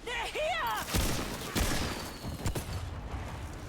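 Enemy gunfire in the video game Remnant II, several sharp shots cracking in quick bursts, mixed with game sounds and someone talking.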